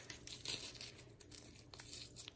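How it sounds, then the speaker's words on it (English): A cracker is crumpled by hand into little bits, giving close, dry crinkling and crackling in quick irregular bursts, fairly soft, with no talking. "get this cracker here and just crumple it up."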